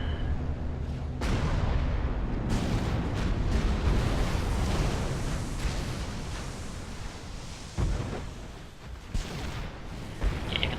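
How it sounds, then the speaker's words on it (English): Torpedoes launch in the Supreme Commander strategy game amid a dense, continuous rumble of distant booms, blasts and bursts of weapon fire, with sharper pops at irregular intervals. "Torpedoes away."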